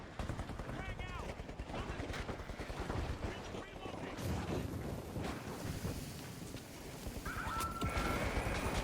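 Continuous rapid gunfire and explosions in a video game firefight, loud and dense throughout, with a frag grenade among the blasts.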